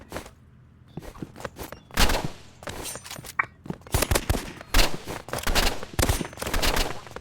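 Video game gunfire in a multiplayer shooter with snipers and knives, dense bursts of rapid shots and single cracks coming in clusters, loud and close, with short quieter gaps between volleys.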